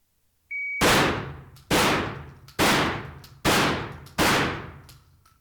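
Five loud shotgun blasts of buckshot, nine pellets per shell, fired at targets, with each sharp boom ringing out into a decaying tail, evenly spaced under a second apart, preceded by a brief electronic timer beep.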